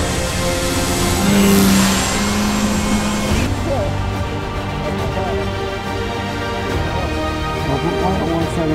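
The electric motor of an E-flite Extra 300 3D 1.3 m RC plane drones steadily and loudly during a low inverted pass over a runway. Its pitch rises and then shifts as the plane passes close by.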